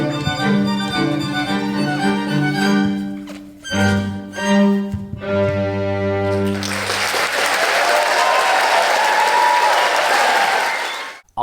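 Audience at a London Mozart Players and Subrang Arts show breaks into loud, sustained applause after music ends, dense clapping building and filling the space for several seconds.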